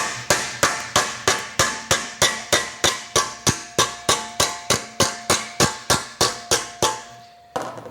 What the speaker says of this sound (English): I'll do that by working over the post dolly using the slap hammer